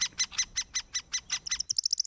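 Bird calls from a played video: a regular series of bright, sharp chirps repeated about every fifth of a second, then quicker, higher tweets at the end, clear and close with no talk.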